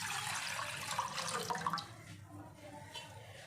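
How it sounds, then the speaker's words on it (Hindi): About three cups of water are poured into a pan for kahwa tea. A splashing, hissing stream runs for nearly two seconds, then fades to quieter trickles and drips. "एक पैन लिया मैंने, इसमें 3 कप पानी ऐड करूँगी।"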